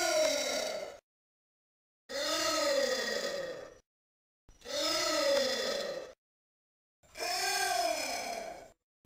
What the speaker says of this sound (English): here is the sound of the giant anteater